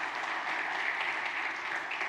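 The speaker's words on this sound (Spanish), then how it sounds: "Denle un aplauso al Señor" A church congregation claps together in a steady, even burst of applause that stays dense and moderately loud throughout, with no voices standing out.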